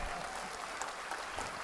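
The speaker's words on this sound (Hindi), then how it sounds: "जोर से हाथ उठा के ताली बजाइए।" Audience applause at a Hindu religious discourse, steady and dense clapping from a large crowd throughout, with no voice over it.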